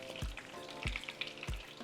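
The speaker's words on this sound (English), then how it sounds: "we're going to be adding our shrimp, and we're going to be frying for about 4 to 5 minutes." Steady close sizzling and crackling of shrimp frying in hot oil, with three soft low thumps spaced evenly through it.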